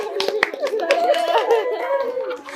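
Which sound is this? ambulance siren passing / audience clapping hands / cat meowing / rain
audience clapping hands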